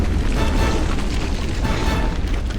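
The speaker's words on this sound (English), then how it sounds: "Mortar! Mortar fire!" Mortar fire explosions in Ghost Recon Advanced Warfighter 2, a dense, loud rumbling boom that fills the whole short span with heavy low-end blast and debris noise, close by and continuous.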